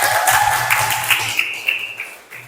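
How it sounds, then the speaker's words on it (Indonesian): A classroom of students applauds for a religious lesson, a fairly loud, uneven patter of clapping that gradually thins out, with a low hum and some faint voices underneath. "Tepuk tangan dulu yang meriah."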